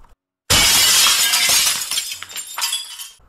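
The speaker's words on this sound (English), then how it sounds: "They watched as a rock was thrown through the window, scattering shards of glass everywhere." Window glass shatters as a thrown rock breaks through it: a sudden loud crash after a short silence, then a spray of tinkling shards that fades over about three seconds.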